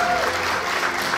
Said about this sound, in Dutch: Ik wil graag nogmaals een applaus voor de vakjury.